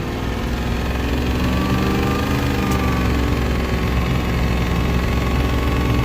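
A supercharged Ford 7.3 IDI diesel runs steadily with its fuel turned up, a loud, continuous, low rumbling drone with a constant whine layered on top, close by and unbroken for the whole stretch.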